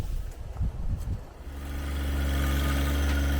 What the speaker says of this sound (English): we'll just film how the tractor works